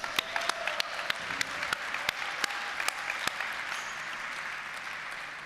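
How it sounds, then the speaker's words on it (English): A room full of people at an awards gala claps steadily, a dense patter of hands with a few sharper claps standing out, continuing for several seconds. "I think that's worth an extra round of applause"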